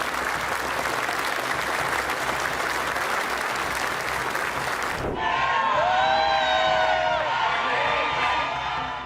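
Audience applause at a Nobel Peace Prize ceremony, a dense steady roar of clapping hands that suddenly gives way to bright whistling and cheering tones with sustained crowd noise.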